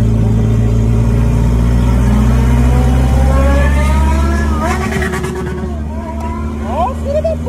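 Close, loud engine of a VW Gol Turbo revving, rising and falling under steady low rumble, with someone talking over it throughout.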